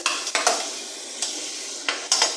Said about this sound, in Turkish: 2 yemek kaşığı kadar da nane ekleyeceğim.